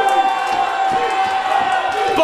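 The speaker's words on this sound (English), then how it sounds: "Listen to this crowd in the American Legion." A wrestling crowd at an American Legion hall cheers and shouts during an independent pro wrestling match, a loud, dense roar of voices and whoops that fills the whole short stretch, with a commentator talking over it.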